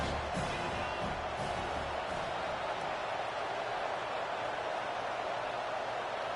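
Stadium crowd in the College Football 25 video game, a steady broad wash of cheering and roar that holds level throughout with no break.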